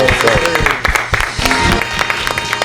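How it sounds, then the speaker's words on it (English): A group of people clapping together at the close of a podcast episode, a short burst of dense applause with a voice talking over it. "let's clap it up for ourselves, man"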